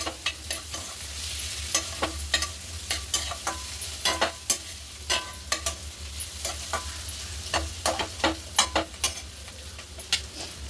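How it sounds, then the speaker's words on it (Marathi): Capsicum dry stir-fry sizzles softly in a pan as coriander is stirred in, with a spatula tapping and scraping the pan in irregular sharp knocks over the low continuous frying hiss. "आता आपण याच्यामध्ये कोथमीर टाकून घेऊ मिक्स करून घेऊ"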